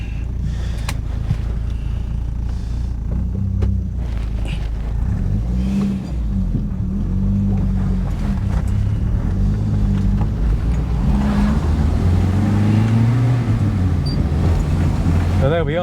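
A Triumph 1300 front-wheel-drive saloon drives along a road, its engine a steady low drone with rising and falling pitch as it changes gear, loud and continuous from start to end.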